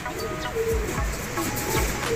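A blue bar racing pigeon coos nearby in soft, low, repeated throaty pulses, with light rustling and a faint voice in the background.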